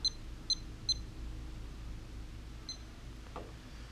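A timer beeping at a Washington Supreme Court candidates' forum: three short, bright beeps in quick succession, then a pause and a fourth beep, with a faint knock afterward against a quiet room.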